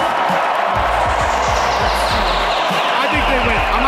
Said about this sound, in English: Listen to the crowd right now.